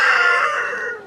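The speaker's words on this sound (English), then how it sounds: "sorry, the chickens are a bit loud," A chicken lets out one short, loud, close crow or squawk in a backyard vegetable garden, a single strained call that fades out within about a second.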